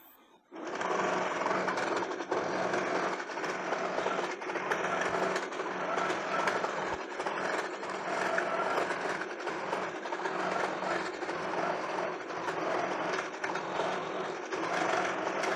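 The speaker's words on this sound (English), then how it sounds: "it's going to lock on and begin sewing where it's supposed to" A sewing machine stitches a quilt on a hoop frame, its needle hammering in a fast, steady mechanical rhythm that starts abruptly and runs loud and close without pause.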